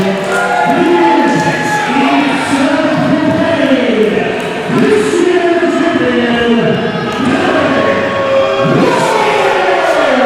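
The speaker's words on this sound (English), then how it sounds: "Crowd definitely sounds like they want him walking away with the title." A live crowd at an IPW Grand Slam professional wrestling event cheers and chants in a continuous roar, with announcers talking loudly over it the whole time.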